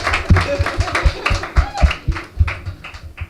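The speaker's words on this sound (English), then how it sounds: "Clap a little louder so get everybody else going" An audience at a Las Vegas open mic clapping in a loose, uneven rhythm, fairly close, with voices chattering underneath.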